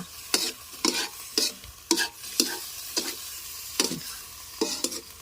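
Pork stir-fried with dark soy sauce for a spicy Thai basil-leaf dish: about ten sharp spatula scrapes against the pan in an uneven rhythm over a constant low sizzle, close and clear with no talking.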